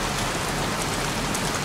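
Steady, dense rain falls without a break in the Heavy Rain video game, a constant broadband hiss of drops on surfaces with no voices over it.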